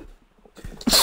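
A player character in ARK: Survival Evolved sneezes after a sneeze seed, a quiet intake building to one loud, sharp burst at the end.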